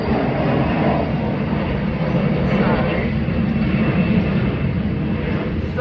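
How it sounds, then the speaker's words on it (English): A plane flying overhead near an airport, a loud continuous low engine rumble and roar filling the background from start to finish. "excuse the plane, it's a plane going above."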